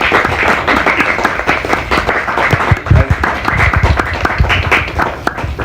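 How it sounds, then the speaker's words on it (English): An audience applauds, a loud, close clatter of individual claps with a few heavier thumps, uneven and lively throughout. "you can applaud now"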